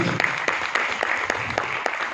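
Seminar audience members clap in a short burst, individual claps standing out in a quick, fairly regular rhythm at moderate loudness.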